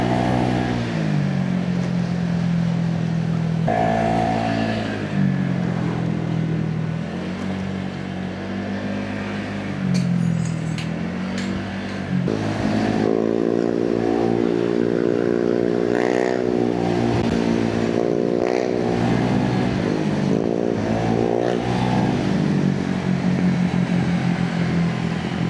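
A remapped Honda Giorno 125 scooter rides along, its engine droning steadily and rising in pitch through repeated accelerations, with wind rush and brief shifts between pulls over about twenty-five seconds.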